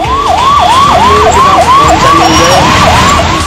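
Ambulance siren wailing in a flooded traffic jam, a loud, close, rapidly repeating rising-and-falling whoop cycling steadily over continuous road noise.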